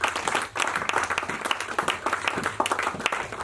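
Church congregation applause fills the room, a steady wash of many hands clapping with scattered cheers and voices mixed in during a sermon.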